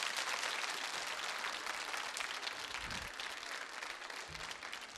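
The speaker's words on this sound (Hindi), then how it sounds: "तालियां जोरदार जोरदार बजनी चाहिए।" Audience applause for three quiz show contestants at a Holi quiz event, a steady, dense patter of many hands clapping heard at a distance and fairly quietly, continuing evenly throughout without speech.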